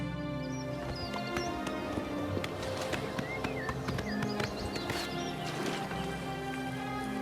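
A horse gallops in the video game Oblivion Remastered, a steady clip-clop of hooves running under ambient game sounds with bird chirps and a musical backdrop.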